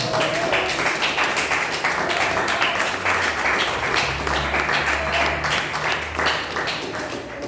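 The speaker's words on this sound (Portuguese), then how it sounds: "Aplauda o Senhor novamente" A church congregation applauds during a worship service, steady broadband clapping sustained throughout with a low hum or music underneath, moderately loud and fairly close.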